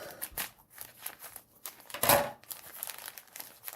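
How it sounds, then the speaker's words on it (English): Plastic wrap crinkles and crumples in close, irregular bursts as tape is cut and the wrapping is pulled open, with one louder tearing rustle midway. "let's pick up this plastic wrap piece. I forget what's in here, but let's take a look. Cut the tape."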